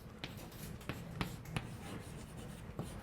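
Chalk taps and scratches across a board during a calculus lecture on derivatives, a series of short, sharp strokes in an irregular rhythm, quiet and close, with no talk over them.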